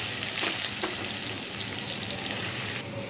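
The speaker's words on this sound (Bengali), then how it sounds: "পেঁয়াজগুলো আমি ভেজে নিচ্ছি ভালো করে" Onions fry in hot oil after potatoes and bay leaves, giving a steady, loud sizzle with a few stirring scrapes that drops slightly in level near the end; no voices.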